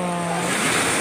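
Steady, near wash of sea waves on the shore at Cebu, constant and full throughout the short stretch, with a faint steady hum underneath.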